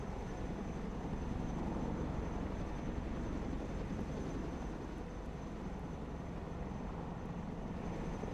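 Troop transport helicopters in a video game give off a steady, dense engine and rotor drone that holds at an even level throughout, with no talk.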